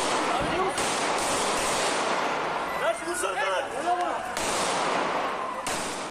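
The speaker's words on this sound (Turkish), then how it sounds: "Kısa süre sonra silah sesleri yükseldi." Police open fire on an attacker in a street confrontation in Bursa, Turkey, with several loud, sharp bangs cutting through shouting and a noisy outdoor scene.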